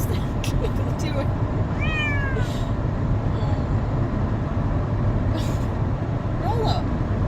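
An escaped cat at a lake cabin gives two brief, fairly faint meows over a constant heavy rumbling background noise.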